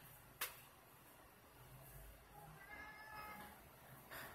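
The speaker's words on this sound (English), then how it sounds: "my cat's meowing" A house cat meows faintly a few times in a quiet room, soft and distant against a low background hiss, with a sharp knock near the start.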